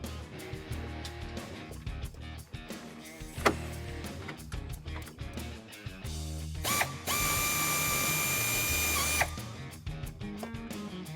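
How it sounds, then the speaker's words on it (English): An air ratchet working on the subframe bolts of a 2008-2022 Dodge Challenger during a sway bar install. Short bursts of clattering tool noise build to a sustained, loud whirring run of about two seconds near the end. "We're gonna try to get the air ratchet in there."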